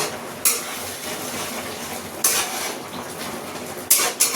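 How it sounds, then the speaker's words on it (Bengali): Metal pot lid being lifted off a pot of zero-oil chicken curry, giving a few sharp clanks and scrapes against a steady sizzle and bubbling of the cooking pot. "এবার আমি ঢাকনাটা সরাচ্ছি।"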